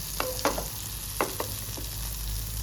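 Soya tikki shallow-fries in a little oil, a steady low sizzle with a few sharp taps and scrapes of a spatula against the pan, no voices.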